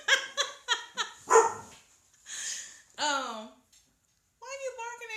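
A dog barks at someone indoors, a burst of sharp rapid barks followed by a longer yelping bark, a pause, and a whiny yip near the mic, loud and close.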